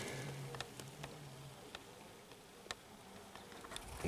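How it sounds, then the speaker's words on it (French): Faint, steady buzzing of honeybees on a hive frame with scattered clicks and brief louder passes, a close, busy hum at low level throughout. "les abeilles sont dessus donc c'est un peu compliqué."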